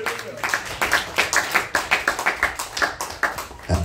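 A congregation claps during a French-language sermon, a brisk rhythmic round of many hands, loud and close, running steadily for several seconds with a faint voice underneath.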